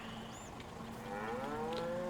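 Cattle mooing in Farming Simulator 22 on a beef farm, a couple of drawn-out rising moos, fairly quiet, with no talking.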